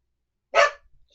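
A single dog bark, close and fairly loud, cuts in sharply after a moment of silence and fades quickly, with a faint low rumble trailing after it.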